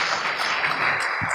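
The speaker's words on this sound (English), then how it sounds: "Please give a hand of applause to our..." A conference audience at an engineering, technology and innovation event breaks into applause, a dense wash of clapping filling the room throughout.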